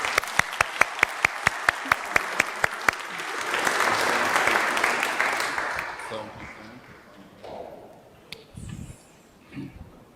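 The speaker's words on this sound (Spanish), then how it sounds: "un aplauso para todos ellos" A church congregation breaks into applause: a few loud, evenly spaced claps lead off, then many hands join in a dense burst that fades to scattered claps and shuffling, with some nearby voices.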